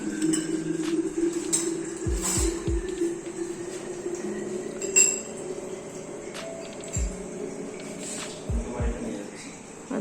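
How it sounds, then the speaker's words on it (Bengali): Spoons and dishes clink with several sharp metallic taps, grouped in small bursts over a soft household background, while people talk nearby. "চামচ দিতে পারবি, সব কটা চামচ"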